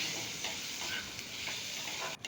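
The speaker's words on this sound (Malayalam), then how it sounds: "ഈ തക്കാളിക്കൊന്ന് വാടി വരട്ടെ ഒന്ന് രണ്ട് മിനിറ്റ് നേരെ നമുക്കൊന്ന് വേവിച്ചെടുക്കാം" Tomatoes with chili and turmeric powder cook in a pan, giving a soft, steady sizzle and hiss with faint stirring scrapes, with no voices.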